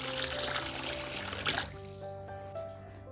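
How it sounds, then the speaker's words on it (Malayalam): Plain tap water poured onto rice for soaking in dosa and idli batter prep: a steady close splashing stream for about a second and a half that stops abruptly, leaving a quiet trickle. "ഇനി ഇതിലേക്ക് കുതിർക്കാൻ ആവശ്യത്തിനുള്ള വെള്ളം ഒഴിച്ചു കൊടുക്കാം"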